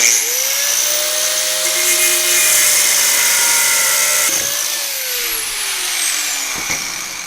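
A power tool cuts through a bolt on a Series 1 M418G starter motor, a loud, steady high-pitched whine with a rising then falling pitch that runs unbroken for about seven seconds and stands alone without talk.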